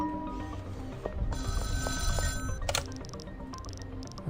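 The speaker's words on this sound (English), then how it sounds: "We should answer the phone, talk to Nelson." A phone rings in the video game Schedule I, a bright trilling electronic bell repeating over a steady low in-game background hum, clear and close.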